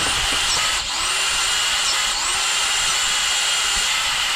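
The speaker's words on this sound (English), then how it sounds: "you'll hear the drill speed up" A power drill spins a Timesert tap into a Honda cylinder head bolt hole, giving a steady high-pitched motor whine that briefly dips a couple of times under load, close and continuous with no voices.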